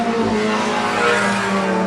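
Race cars roar around a racing track in a loud, sustained engine drone with a steady pitch and slight swell, close and continuous, with no voices.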